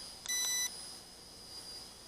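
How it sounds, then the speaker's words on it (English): A Feilun FX176C1 brushed GPS quadcopter emits a single short, bright electronic beep, followed by faint high-pitched tones over a quiet hiss. "Now it's beeping."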